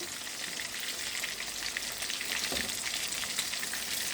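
Tilapia fish frying in a pan gives off a steady, dense sizzle of hot oil that holds evenly from start to finish, close and fairly loud, with a few faint crackles and no voices.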